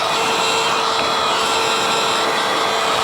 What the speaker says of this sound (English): I'm gonna heat gun that edge.